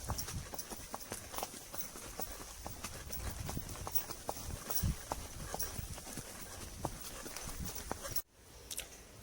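A horse walking on a jungle mountain trail, its hooves clip-clopping in an irregular rhythm close by, faint and textured under rustling movement, cutting off near the end.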